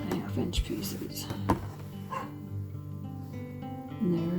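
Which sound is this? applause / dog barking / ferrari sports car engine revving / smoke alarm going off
dog barking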